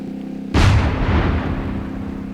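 A single loud, close cannon blast from a tank in the Minecraft Create Aeronautics mod, a sharp boom that decays into a rumbling tail over a faint background hum.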